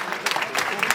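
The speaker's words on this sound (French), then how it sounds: "vous les applaudissez très très fort." Brief burst of applause for guests from Côte d'Ivoire at a culinary diplomacy event in Paris, dense clapping from an audience lasting about a second.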